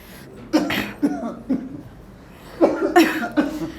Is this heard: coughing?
yes